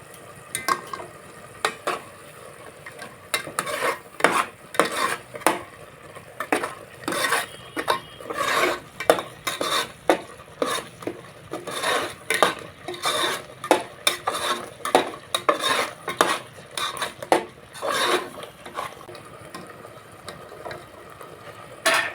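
Fish curry is stirred in a pot, a long series of rhythmic scraping strokes of a utensil against the metal at a steady pace, over a faint simmering sizzle.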